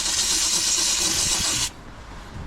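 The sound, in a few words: steam cleaner cleaning the grooves of a van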